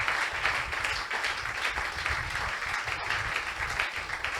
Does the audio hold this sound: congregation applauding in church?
yes